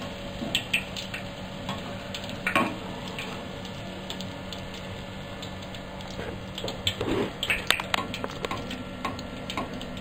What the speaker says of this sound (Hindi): तो आप देख रहे हैं ये बहुत अच्छे से फ्राई हो गए हैं।